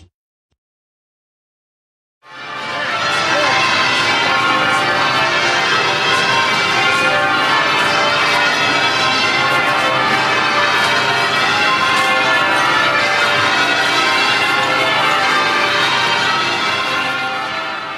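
Church bells in the City of London ring loud and continuous, a dense wash of overlapping peals that starts abruptly after a short silence and carries on steadily.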